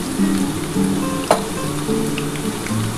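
Diced potatoes fry in hot oil in a pan, giving a steady, moderately loud sizzle with one sharp clink of a utensil partway through.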